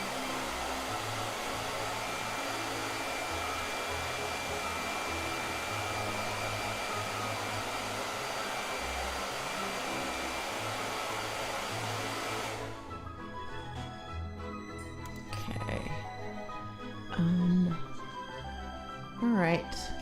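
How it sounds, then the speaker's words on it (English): A hair dryer blows steadily and loudly onto freshly painted gouache, a constant whooshing drone that cuts off abruptly, then a person talks over quieter room sound. "Blow dry."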